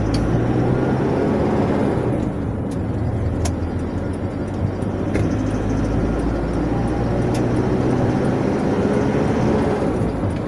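A 2013 Isuzu D-Max Spark single-cab pickup engine runs loud and close, holding a continuous, rumbling drone throughout.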